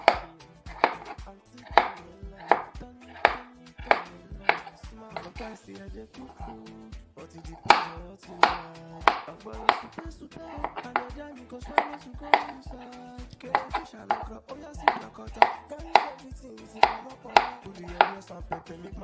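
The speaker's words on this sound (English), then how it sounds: "We just cut." A knife chops squash on a board in a steady run of sharp, close thuds, roughly one to two a second, over faint background voices or music.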